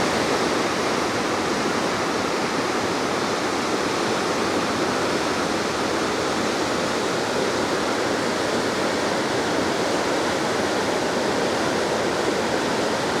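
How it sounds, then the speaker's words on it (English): Flooding Merced River water near Yosemite's west gate at El Portal, a steady, loud, unbroken roar of rushing water with no pauses. "with the roar of the water"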